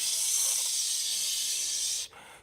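A voice imitates a pressure cooker letting off steam, one loud sustained breathy hiss that holds steady for about two seconds, then cuts off sharply into near silence.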